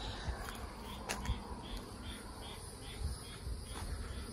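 Honey bees swarm busily around a very active beehive on a morning outdoors, giving a steady dense buzz with brief louder passes as individual bees fly close by.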